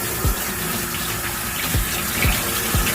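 Water splashes and drips as a curly headband wig is pressed and washed in a shallow pool of water in a sink, with a running tap background and a few soft squelching dips.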